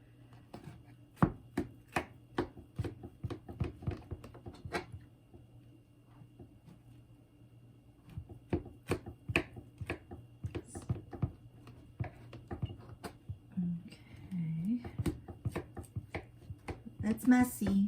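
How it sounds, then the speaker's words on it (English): A knife chops through homemade banana cake with chocolate chips, cutting it into small squares: a run of sharp, close taps in quick bursts, pausing midway, then resuming, with faint voice sounds near the end. "sometimes I've cut it in little squares,"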